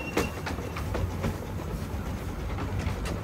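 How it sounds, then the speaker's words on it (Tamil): A light steam train runs on the Evesham Vale Light Railway, producing a steady rolling rumble with repeated clickety-clack wheel beats, moderately close and heard alone. "அதனால் ஒரு ட்ரெயின் மட்டும்தான் ஓடிட்டு இருக்குது."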